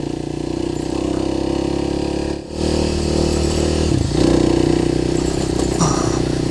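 KLX300 dirt bike engine running steadily while riding on Ozark creek trails, a continuous close mid-pitched motor drone with a brief dip near the middle as the throttle eases off, then climbing again.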